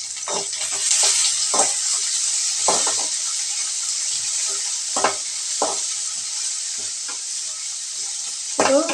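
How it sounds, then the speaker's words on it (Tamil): Onions and green chillies being sautéed in a pan for a vegetable kurma, with a steady bright sizzle throughout and repeated close scraping stirs of a spatula against the pan. "பச்சை மிளகாயும் சேர்த்துக்கலாம் இப்போ இதை நல்லா நம்ம வதக்கி விட்டுக்கலாம்"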